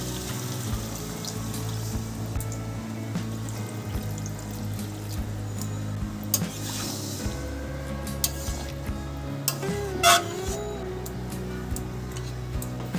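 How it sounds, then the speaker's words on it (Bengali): Water is poured into a pan of frying chicken liver being cooked down for mete kosha and then stirred, a steady low pouring and bubbling with scattered utensil ticks, moderately close and without talk. "এবার এটার মধ্যে পরিমাণ মতো জল দিয়ে দিচ্ছি"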